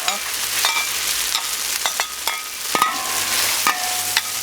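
Vegetables stir-fried in oil in a wok give a continuous close sizzle, broken by repeated sharp metallic scrapes and clinks of the spatula against the pan at an uneven rhythm.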